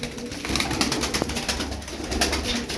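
A crested tumbler pigeon coos repeatedly nearby in a soft rhythmic pattern, with a rustling, fluttering background and no speech.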